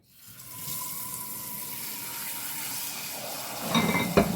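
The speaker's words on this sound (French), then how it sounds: "Je vais mettre de l'eau dedans." Water pouring from a tap into a saucepan, a steady close rushing stream that builds quickly and holds, ending with a few clatters of the pan.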